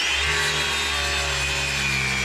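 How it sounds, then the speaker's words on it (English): A power saw rips one-inch plastic strips during a wooden boat restoration, giving a loud, continuous whining drone with steady tonal harmonics that holds for the whole stretch without a break. "I'm going to take 2 1-inch strips off of this and make a heck of a lot of plastic sawdust"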